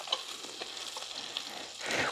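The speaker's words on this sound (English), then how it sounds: "That little breadcrumb went right to frying." A chicken cutlet frying in a hot skillet gives a steady, close sizzle with faint crackles, with no talking over it.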